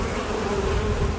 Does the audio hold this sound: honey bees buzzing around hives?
yes